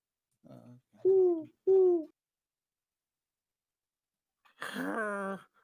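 A person imitates a bird hooting with three short hoot-like calls, then pauses and gives one longer, wavering hoot, close and clear against silence. The imitation happens during a tabletop Dungeons & Dragons session.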